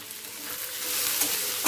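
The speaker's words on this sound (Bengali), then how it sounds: "আদা, রসুন, কাঁচা লঙ্কা কুচোটা পেঁয়াজের সাথে আরও 30 সেকেন্ড মতো ভেজে নেব" Chopped ginger, garlic and green chilli fry with onion in hot oil for a plain tarka, a dense, steady close-up sizzle that grows slightly louder toward the end.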